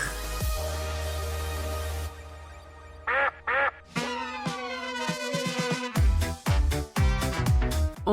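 A duck quacks in short repeated bursts, several clear calls close by, mixed with other busy household sounds and no talk over them.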